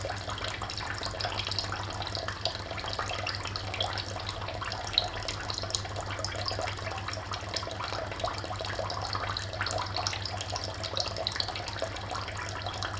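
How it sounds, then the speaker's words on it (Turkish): An İhlas water purifier taking in water, a steady continuous trickling flow with a low hum underneath, even and unbroken throughout. "Şu an içine su almaya devam ediyor."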